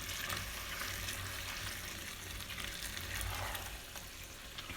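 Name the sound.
stirring taco meat in a pan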